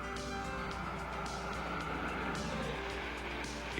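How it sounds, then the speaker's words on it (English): A 1962 Corvette with a 327 cubic inch engine producing over 340 horsepower runs with a steady, dense roar, continuous and moderately distant, with no talking. "This 62 Corvette has a 327 cubic inch engine that produces over 340 horsepower."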